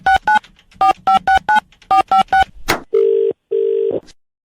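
A telephone redials a call: a rapid sequence of short, loud keypad dialing beeps in small clusters, then two long, steady ringback tones separated by a gap, with no voices.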